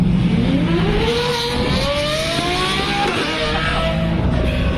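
A naturally aspirated V12 car engine revving at the Zolder race circuit, a loud sustained roar with rising and falling pitch sweeps as it accelerates past, among other engine noise.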